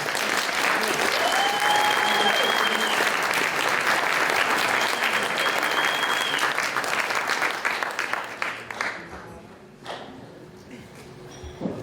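Sustained applause from a dinner audience honoring Ellen at the Boyertown Area Progress Dinner, a dense roomful of clapping that holds steady and then thins out and fades toward the end, with a few tones ringing through.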